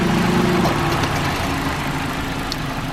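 A Nissan Grand Livina engine idles steadily up close, a continuous mid-pitched hum with a faint low throb and no change in speed.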